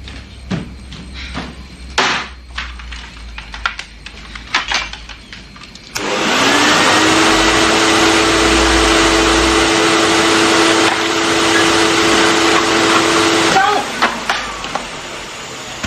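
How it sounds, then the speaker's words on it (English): A vacuum cleaner switches on at about six seconds and runs loudly and steadily late at night in a TV drama scene, then cuts off near fourteen seconds. Knocks and thumps come before it starts. "running a vacuum cleaner at 2:30 in the morning"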